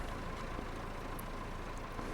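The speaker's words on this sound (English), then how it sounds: "I'm going to turn that tractor off. It's keep running in the background." Tractor engine idling in a farming video game during wood production, a faint, steady low rumble running continuously in the background with no change in pitch.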